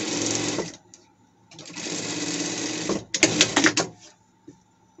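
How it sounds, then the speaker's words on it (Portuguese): A sewing machine runs a safety stitch on a costume piece in loud close bursts, a long run, a pause, another long run, then a choppier stretch with clicks before it stops. "Aqui vamos passar uma costura de segurança."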